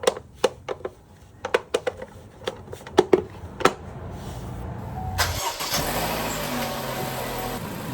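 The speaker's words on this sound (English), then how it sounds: "Start engine, no misfire, all working fine." A Vauxhall/Opel petrol engine fitted with a new rocker cover gasket: a run of sharp clicks and knocks comes first, then the engine catches and settles into a steady, close idle.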